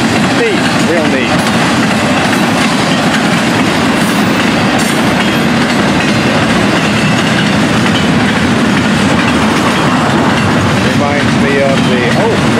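Florida East Coast freight train cars roll past close by, a loud continuous rumble with rhythmic wheel clatter on the rails, and voices faintly mixed in.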